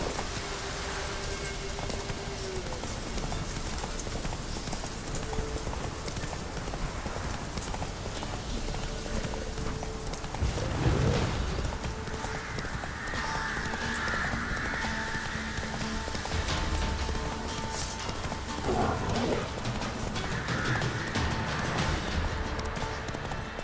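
Roach, the horse in The Witcher 3: Wild Hunt (Blood and Wine), gallops with a steady clip-clop of hooves under rain and ambient game sound, with a brief louder swell midway.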